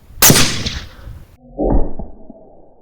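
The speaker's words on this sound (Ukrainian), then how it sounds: "зараз перевіримо, чи витримає американська плита постріл з 338" A .338 rifle fires at an American ceramic armor plate, one loud sharp crack with a decaying tail, followed about a second later by a second heavier boom and rumbling echo, no voices.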